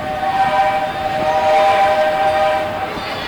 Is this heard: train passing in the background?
yes